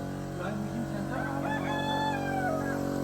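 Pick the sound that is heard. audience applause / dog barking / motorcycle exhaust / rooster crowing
rooster crowing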